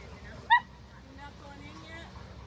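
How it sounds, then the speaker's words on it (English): A dog at a dog park gives one sharp, close bark, followed by faint whimpering yips while people talk quietly in the background. "he's barking because he wants your attention"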